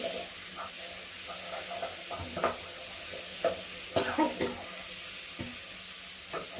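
Chopped tomatoes, four of them, tumble into a hot frying pan for a shark curry and get stirred, giving soft sizzling with scattered scraping clatters and clinks of the spoon, fairly close, without talk.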